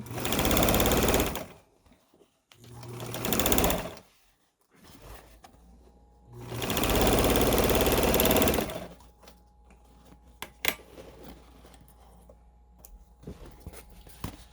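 A sewing machine stitches a chenille fabric tote bag in three loud, close bursts with quiet gaps between them. Soft handling noises and light clicks follow as it falls quiet.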